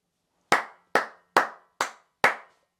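Five sharp, separate hand claps land at a slow, even pace, each ringing briefly in an otherwise quiet space.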